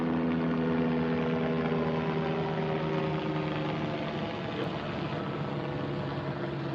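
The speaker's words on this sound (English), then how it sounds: "Got the military helicopter flying over." Military helicopter flying over, a steady droning engine hum with a low rotor rumble that holds evenly and fairly loud throughout, with no talking.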